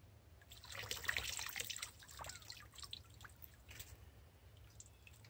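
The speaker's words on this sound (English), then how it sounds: "there it's going in. I can hear it trickling in." Water trickles and drips into a water filter container outdoors at a campsite, a faint, continuous dribble with scattered close drips and no talking.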